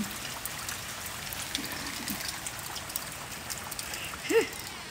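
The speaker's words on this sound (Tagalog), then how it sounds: "Ayan, ang lakas ng ulan." Heavy rain falls outside on a cold day, a soft, steady hiss of water with faint trickling, distant and low in level, with one brief nearby sound near the end.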